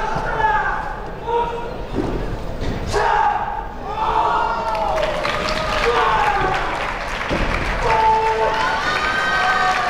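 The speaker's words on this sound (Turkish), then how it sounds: "Seyirci de iyi hareketi alkışlıyor." A crowd at a karate team kata competition claps and cheers throughout, a dense, sustained wash of applause with shouts rising over it, while a commentator talks on top.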